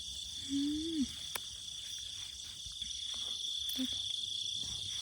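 Crickets chirp at night in a steady, high continuous trill, with a short low croak and a few faint clicks standing out against it.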